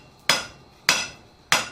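A blacksmith's hammer strikes hot metal during forging practice, three sharp ringing blows spaced at a steady, unhurried rhythm, each loud and close and fading quickly between hits.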